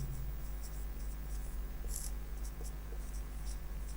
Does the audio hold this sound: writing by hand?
yes